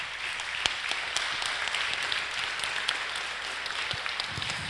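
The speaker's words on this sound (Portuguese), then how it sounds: "Dá uma salva de palmas, irmãos." A church congregation claps together in a steady, sustained round of applause that fills the room evenly from start to finish.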